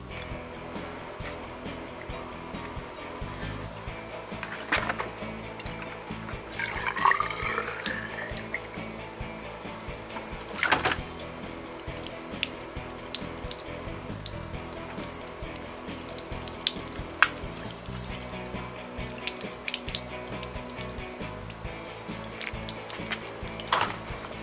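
Water is poured into a pipe being tested for leaks, a continuous trickle and splash that runs steadily for the whole stretch with a few louder surges and no talking.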